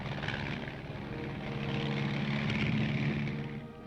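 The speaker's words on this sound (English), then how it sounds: "Among the aircraft used are the L-19, a standard observation plane." L-19 observation plane with its propeller engine running: a steady, moderately loud drone with a throbbing propeller tone that swells slightly, heard alone without talk.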